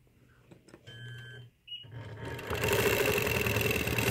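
A sewing machine stitches a small quilt block, running in short bursts with a pause before settling into steady, loud continuous stitching up close.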